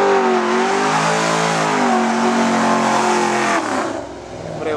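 V8 race cars, including a Ford Falcon and a Camaro, accelerate hard at a racetrack with loud, rising engine roars that fill the air before fading slightly at the end.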